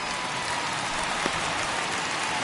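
Steady rain falls during a baseball game between the Indians and Reds in the MLB The Show 21 video game, a dense, even hiss of drops that stays constant throughout with no voices.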